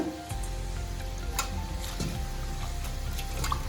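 Cold water is poured over just-boiled vegetable noodles in the cooking pot with the stove switched off, producing a steady close splashing hiss that runs without pause.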